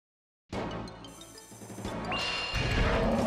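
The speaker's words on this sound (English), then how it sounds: "That sound is the sound of him trying to cast his little spell." Boss casting a spell in the Alundra video game: after a moment of silence, a sudden burst of crashing, swirling magical effects builds and grows louder for about three seconds, with a rising tonal shimmer near the end.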